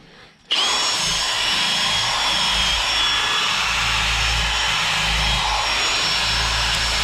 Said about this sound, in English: It ain't too bad running it on a drill.